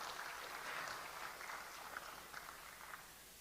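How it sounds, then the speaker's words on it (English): Applause from the floor for the speakers at a G20 session in Jakarta, faint steady clapping that thins slightly toward the end. "a big round of applause perhaps for our speakers from the floor"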